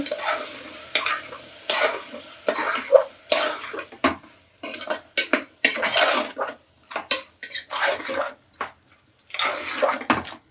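Aloo methi ingredients with tomato being stirred in a cooking pot, a spoon scraping and knocking against the metal in repeated bursts with short pauses, close and fairly loud, faint sizzling underneath.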